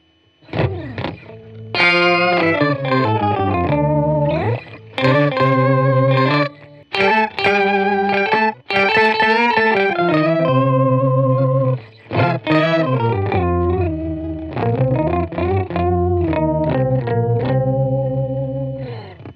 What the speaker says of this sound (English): Real quick, I'll show you what the octave sounds like.